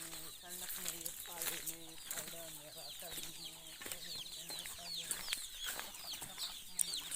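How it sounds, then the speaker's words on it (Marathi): Many chickens cluck and cackle together on a poultry farm, a dense, overlapping flock chorus at moderate distance with occasional louder calls and a soft flutter of wings. "सगळे आता इकडे फिरत आहेत कोंबड्या बघा"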